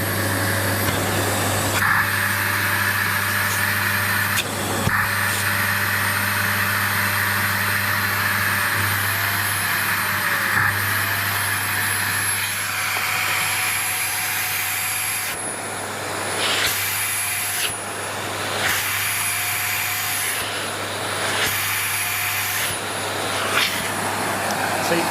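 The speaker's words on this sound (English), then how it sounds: "so that noise there, that's like a relief valve" A 2013 SEBO K3 Vulcano bagged cylinder vacuum cleaner runs with its suction blocked, giving a loud, constant motor roar with high whistling tones that slide in pitch as the relief valve opens and air is forced through.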